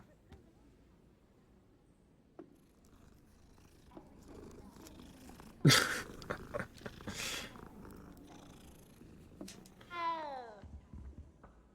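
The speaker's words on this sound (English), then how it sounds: "Hello, cat." A cat in the Hogwarts Legacy video game purrs and meows at moderate volume, with a rising harmonic meow near the end, amid game ambience and brief voice.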